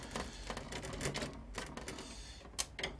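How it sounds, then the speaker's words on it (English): Quick, faint mechanical clicking and rattling as screws are undone to free a DOS compatibility card from a Power Macintosh 6100/66, steady small taps close by with no talk. "if I very quickly undo these screws, I should be able to"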